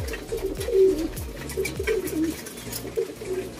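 Pigeons in a loft coo repeatedly in soft, rhythmic rolling phrases, close by and moderately loud, with several birds overlapping.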